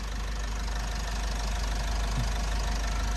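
A 2019 Isuzu D-Max 1.9 Ddi diesel with automatic transmission idles up close, a steady low rumble with faint ticking clatter running evenly throughout and no voices over it.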